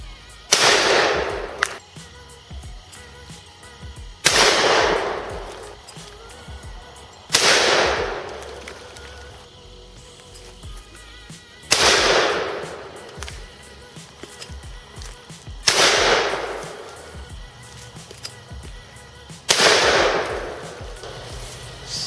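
Shotgun blasts at a skeet range, six sharp loud reports spaced a few seconds apart, each with a quick decaying tail, fired alone outdoors with no talk.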